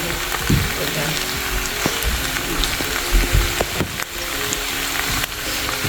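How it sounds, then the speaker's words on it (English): Garlic sizzles in hot oil in a pan while shrimp lo mein is being cooked, a steady crackling fry with occasional stirring clatter, close and fairly loud throughout. "so I'm going to be adding my garlic"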